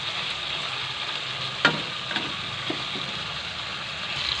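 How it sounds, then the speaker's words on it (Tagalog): Ground beef sautéed in a pan with onion, garlic and crushed tomato sizzles steadily and close, a continuous frying hiss broken by a few small pops and utensil clicks. "Kaya gisa-gisa lang natin ng konti."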